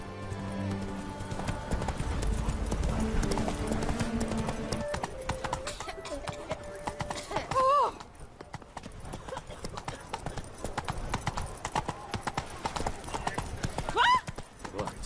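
Steady clip-clop hoofbeats of Roach, the horse in The Witcher 3, trotting in a regular rhythm under background music, with a couple of brief neighs and a voice calling to the horse.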